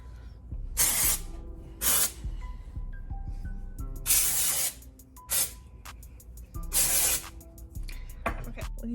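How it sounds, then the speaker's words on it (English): Colab dry shampoo sprayed from an aerosol can in several sharp, hissing bursts of varying length, close and fairly loud, with no talking. "I'm not mad at the spray."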